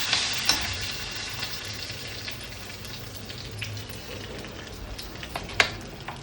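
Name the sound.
mustard seeds, urad dal and curry leaves frying in hot oil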